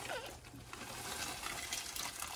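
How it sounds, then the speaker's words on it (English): Water boiling in a pot on a kitchen stove before macaroni goes in for tuna mac and cheese, a steady soft bubbling and hiss heard faintly and alone. "right now the water is boiling, so we're going to put in the macaroni"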